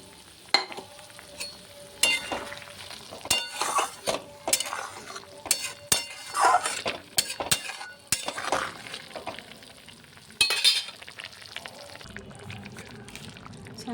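Paneer cubes sizzle and crackle in a hot pan as they are stirred, with repeated sharp clinks and scrapes of a spoon against metal standing out over a steady frying hiss.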